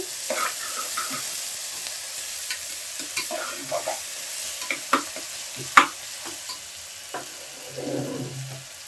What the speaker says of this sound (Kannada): ಇವಾಗ ಈರುಳ್ಳಿ ಹಾಕ್ಕೊಳ್ತಾ ಇದ್ದೀನಿ ಮೊದಲಿಗೆ. ಇದನ್ನ ಈ ಥರ ಚೆನ್ನಾಗಿ ಮಿಕ್ಸ್ ಮಾಡ್ಕೊಳ್ಬೇಕು.